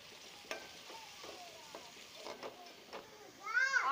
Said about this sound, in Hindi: हम आंडे अच्छी तरह भून लेंगे